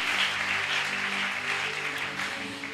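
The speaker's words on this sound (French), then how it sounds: "On acclame une fois de plus le Seigneur." A church congregation applauding the Lord, dense steady clapping from many hands filling the room throughout, loud and close, slowly easing toward the end.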